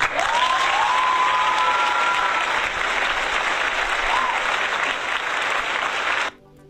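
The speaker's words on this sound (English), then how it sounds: "You get a round of applause." Crowd applause at steady loudness with a whistle-like tone gliding over it early on, the whole burst cutting off abruptly near the end.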